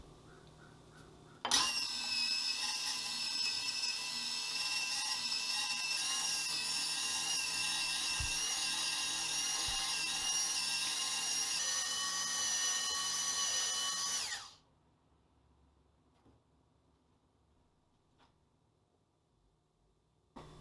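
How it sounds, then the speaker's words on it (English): A motorized attachment on a manual grain mill grinds wheat berries into flour with a loud, high, steady whine that starts abruptly, runs for about thirteen seconds, then cuts off into near silence. "It's a little bit loud, but I wouldn't say it's any louder than your normal grain mill."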